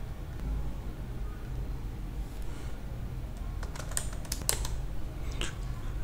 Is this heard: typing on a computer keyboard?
yes